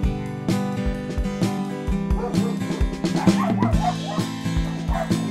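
Dogs along a hillside lane in Grand Bois, Saint-Pierre, Réunion, give repeated barks and yips, some close and loud, with steady ambient noise underneath.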